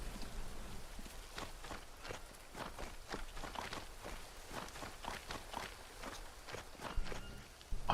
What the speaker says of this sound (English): I don't know if it's the fire crackling or my footsteps in the mud.